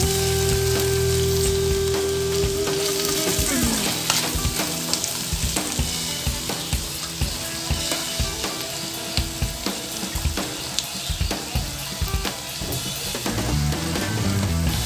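Mutton for Mutton Pallipalayam fries and sizzles steadily in a pan while it is stirred, with repeated scraping strokes and a brief splash of water near the start, all close and loud with no talking.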